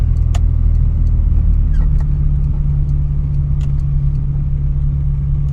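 A car driving at night in the rain, with a steady low engine and road rumble throughout, heard from inside the cabin, loud and constant, with faint ticks and small knocks scattered over it and no talk.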